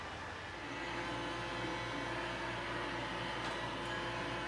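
A Roomba robot vacuum runs inside a small RV, giving a steady, fairly quiet motor whir and hum that holds even throughout, with no talking.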